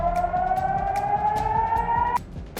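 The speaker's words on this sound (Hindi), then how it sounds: "रात का अंधेरा, सायरनों की आवाज," Air raid sirens in a Ukrainian city at night wail in a long, slowly rising tone that cuts off abruptly near the end, loud and steady, with faint thuds beneath and no talk.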